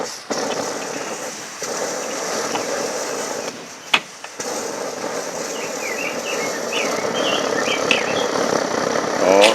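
A SVEA 123R camping stove burns with a steady, loud broadband roar that runs almost the whole time, broken by a brief dip and a sharp click near the middle, with faint chirps over it.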